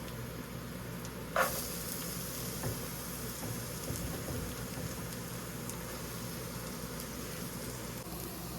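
Chopped onion hits a pan of hot oil with crushed garlic for kale poriyal, a sudden loud sizzle burst that settles into a steady, close frying hiss with a few small clinks and pops.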